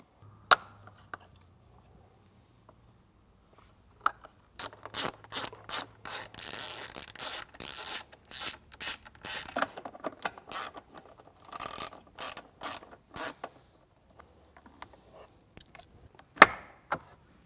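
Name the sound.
ratchet removing 10mm grab handle bolts, Jeep Wrangler JL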